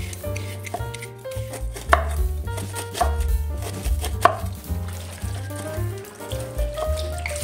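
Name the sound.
chopping papaya into pieces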